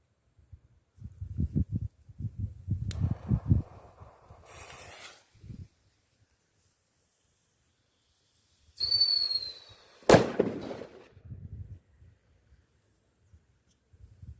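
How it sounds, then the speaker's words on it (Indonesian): Low crackling and popping bursts from small Happy Power firecrackers, followed later by a rising whistle and a sharp bang, with quiet gaps between. "petasan happy power. Oke, siap untuk kita nyalakan."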